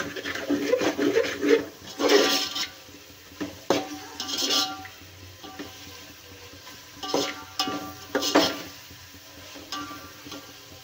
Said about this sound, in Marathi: हे पण छान तेलामध्ये परतून घ्यायचं आहे.